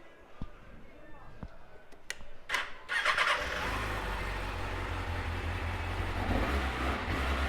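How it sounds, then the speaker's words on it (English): A 2014 Kawasaki ZX636 sport motorcycle is quiet at first with a few clicks, then its engine fires up loudly and runs with rising revs, close up. "Let's give it a little bit of a brum brum."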